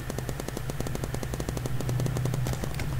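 P90 gunfire in a Roblox paintball game, a rapid automatic burst of evenly spaced shots that runs without pause for about three seconds, moderately loud with no talking.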